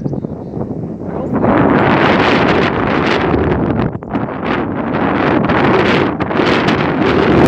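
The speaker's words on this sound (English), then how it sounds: "It is windy" Strong, cold wind buffets the microphone on a mountain peak in a loud, continuous roar, gusting and briefly easing before surging again.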